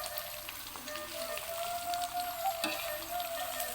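Shallots, garlic and leek frying in oil for soto padang give a soft, steady sizzle and crackle, faint and close, with occasional light stirring clicks.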